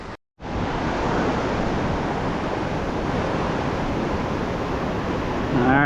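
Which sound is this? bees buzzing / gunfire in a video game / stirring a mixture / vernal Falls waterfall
vernal Falls waterfall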